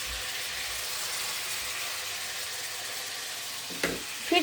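Food frying in a pan while cooking biryani for iftar: a steady crackling sizzle throughout, with a couple of louder clatters near the end.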